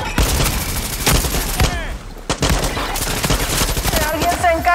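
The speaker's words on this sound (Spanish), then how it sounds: "¿Quién está disparando?" Far Cry 6 firefight: rapid bursts of automatic gunfire crackle nonstop at close range, with shouting voices breaking in between the volleys.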